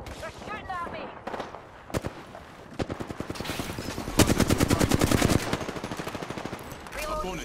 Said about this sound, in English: Pulling the trigger. They're shooting at me.